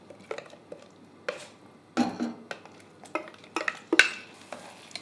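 Rendang spice paste is scraped into an oiled heavy saucepan: a series of irregular scraping and clinking utensil strokes, each with a short burst of sizzle, close and fairly quiet, with no voices.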